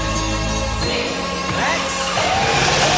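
A MotoGP racing motorcycle idles near 1,000 RPM, its low, steady engine drone loud and close before shifting in tone, with whistling mechanical sweeps layered above.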